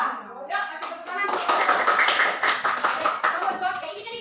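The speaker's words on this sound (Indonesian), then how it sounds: "kasih tepuk tangan" Classroom clapping from students at an Islamic education teaching session in Indonesia, a burst of scattered hand claps over a few seconds with voices chattering underneath.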